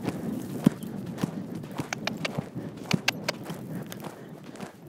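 A horse trotting forward on arena footing during a dressage schooling session: steady, rhythmic clip-clop hoofbeats at moderate distance, with faint background noise and no clear talk.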